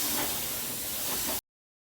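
A continuous hissing spray from an aerosol paint can coating a tombstone prop, close and steady, stopping abruptly after about a second and a half, followed by silence.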